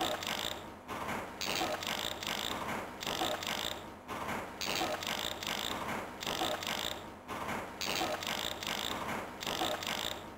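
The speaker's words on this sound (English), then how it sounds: "wrench" Wrench ratcheting in a video game repeats as quick, clicking mechanical bursts in a steady loop, each run lasting about a second and separated by short gaps, close and clear with no talking.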